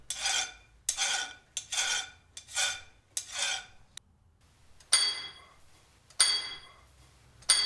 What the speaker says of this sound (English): As he strikes the drill with his hammer, a tiny amount of rock is chipped away.